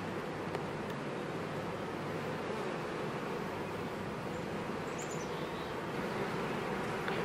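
Honey bees hum in a crowded open hive heavy with honey, a steady, dense, close drone holding level throughout with no voices.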